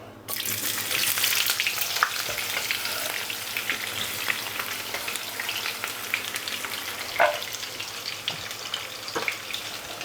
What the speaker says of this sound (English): So I just fry off the onions.